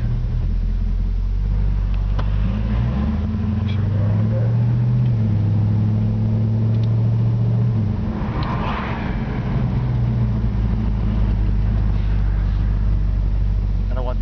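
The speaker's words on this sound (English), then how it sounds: "I'm going to pull in here in the church parking lot and walk around the car a little bit" A 1964 Ford Galaxie rolls into a church parking lot, its engine a steady low rumble with shifting pitch as it slows and turns, loud and close throughout with no one talking.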